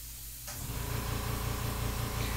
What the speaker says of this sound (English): you hear my compressor going off, it's the California Air Tools